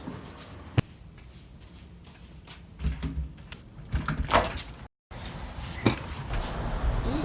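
A door being opened to answer a visitor: a sharp click, then scraping and rattling movement, a brief cut to silence, and a softer thump and rustle afterward, all fairly quiet.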